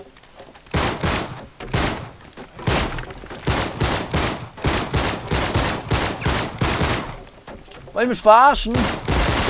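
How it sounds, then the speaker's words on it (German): Gunshots fired at a support beam in Uncharted 3, a rapid series of sharp loud bangs in an irregular rhythm, close and dominant, with a brief spoken remark near the end. "Wenn ich auf die Stütze schieße."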